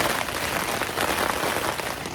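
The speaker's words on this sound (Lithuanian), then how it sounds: "Va toks lietus prasidėjo." Rain pours steadily, a dense continuous patter heard close by from shelter during a trip in Italy, with no pauses across the short stretch.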